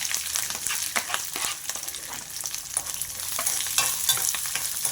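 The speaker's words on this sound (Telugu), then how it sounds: "ముందుగా కట్ చేసి పెట్టుకున్న పచ్చిమిర్చి ఉల్లిపాయలు వేసేసా" Chopped green chillies and onions fry in hot oil for a ridge gourd curry, a close steady sizzle with frequent spatula scrapes and stirring clatter throughout.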